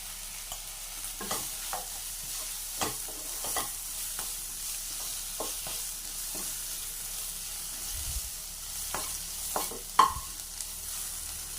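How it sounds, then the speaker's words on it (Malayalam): Eggplant sautéing with turmeric powder in a pan, a soft steady sizzle broken by repeated scraping stirs of a spatula at irregular intervals, close and alone without talk. "മഞ്ഞൾപ്പൊടിയും ചേർത്ത് നന്നായിട്ട് വഴറ്റിയിട്ടുണ്ട്."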